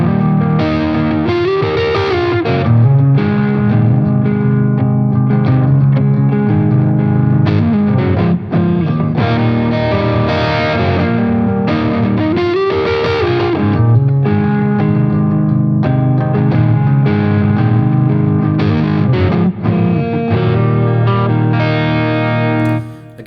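A Donner DLP-124S Les Paul electric guitar plays through distortion with effects, a steady, loud run of chords and notes that carries on continuously without talk.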